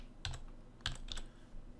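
Computer keyboard typing, a few short bursts of keystrokes clustered together, close and clear with no talking.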